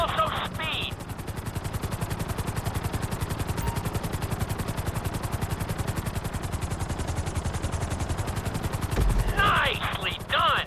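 A helicopter flies in GTA V, its rotor beating in a fast, loud, steady pulse throughout, with brief electronic bursts at the start and end.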